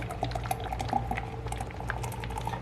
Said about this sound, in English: You do a rough pour, what I call, and right down the middle.